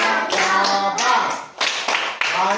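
Children in a classroom doing a clapping chant, a run of loud rhythmic claps in short bursts with chanted voices mixed in.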